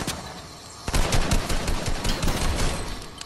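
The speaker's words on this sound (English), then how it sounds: "Okay, I hear shooting." Video game gunfire erupts after a brief quiet lull, with rapid bursts of automatic shots rattling loudly and continuously through the rest of the moment.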